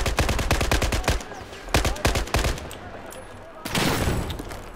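Gunfire in Battlefield 4, SCAR-H in play, with rapid close bursts of shots in two clusters, then a louder sustained blast of noise near the end from incoming fire and airburst explosions.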